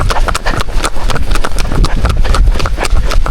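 Steady, rapid clip-clop of Mongolian horse hooves on a hard road, loud and close, continuing without a break.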